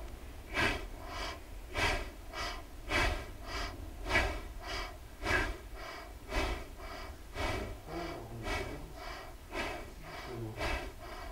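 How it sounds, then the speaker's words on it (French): Rapid, rhythmic nasal pumping breaths with lips closed during a Kundalini yoga abdominal session, a steady series of sharp sniffing puffs about twice per second, close and fairly soft, with live music underneath. "La respiration se fait par le nez, les lèvres sont collées. Petit piston."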